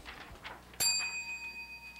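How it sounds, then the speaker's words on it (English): A hand bell rung once by a trainer as a signal during a training session, a single bright ring with a long, clear decay that follows quiet room sounds. "When I ring the bell"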